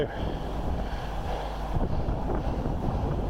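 Gusty wind buffeting close and fairly loud in a back garden, a continuous low rumble with surges, no voices.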